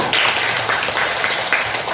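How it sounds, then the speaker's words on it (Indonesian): Classroom students applaud in a short, steady round of clapping, a busy patter of many hands with no break, fairly close and loud. "Ya, tepuk tangan."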